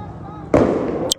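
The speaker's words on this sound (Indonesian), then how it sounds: "kalian bisa dengar sendiri tembakan gas air matanya sudah dilepaskan kembali seperti suara letupan bom" A tear gas canister fires with a single sharp, loud bang over a low background rumble at a street protest in Mataram, Lombok, followed by a sustained roar and a brief crisp crack near the end.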